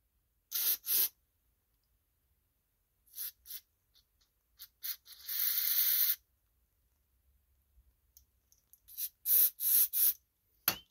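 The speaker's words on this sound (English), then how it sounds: "Now we're going to spray carburetor cleaner." Several short, sharp hisses of carburetor cleaner sprayed from an aerosol can into a push mower carburetor, close by, with one longer sustained blast and quiet gaps between bursts.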